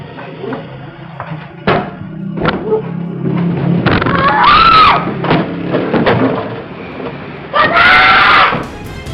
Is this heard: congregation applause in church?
no